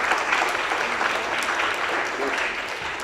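An audience claps continuously as four moderators come on stage, a dense, even burst of applause from a crowd, with some voices mixed in.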